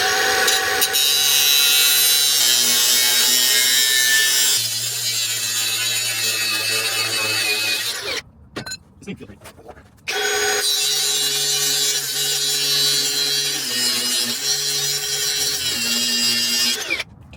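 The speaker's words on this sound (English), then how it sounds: "Totally ripped that off there, and yeah, the grinder feels great." An angle grinder cutting metal on a 3rd-gen Toyota 4Runner frame for a DIY winch bumper, a loud sustained whining screech with a brief drop to quiet clatter midway before cutting resumes, close and alone.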